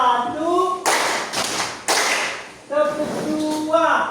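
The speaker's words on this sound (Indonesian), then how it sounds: "Tepuk 1." A classroom group claps in unison in a rhythmic pattern, two broad bursts of clapping separated by voices chanting and talking before and after.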